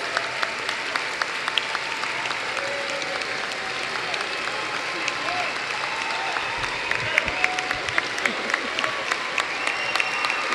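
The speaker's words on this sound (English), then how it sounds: "let's give this great class another big round of applause" Sustained applause from a graduation crowd at a high school commencement in Ann Arbor, a dense even clatter of many hands with sharper claps standing out toward the end.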